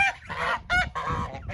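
Farm geese honk loudly and close by, a flock calling in rapid overlapping bursts as they are fed nutgrass.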